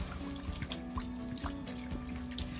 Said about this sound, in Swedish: Snön smälter. Det töar. Det bara droppar från taket.